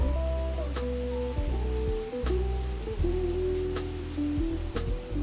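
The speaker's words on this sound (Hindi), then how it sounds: "हमने देखा कि भाई बारिश हो रही है" Steady rain falls outside a hotel stay in Uttarakhand, a continuous close hiss under a low rumbling hum with a few sharp ticks and no voices.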